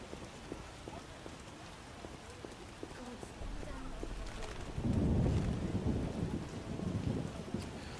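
Steady rain with a low rumble of thunder swelling partway through, from the video game The Witcher; a continuous wash of downpour with distant-sounding thunder, and some speech in the background.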